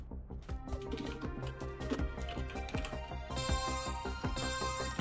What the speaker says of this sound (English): you need to get quicker at typing, man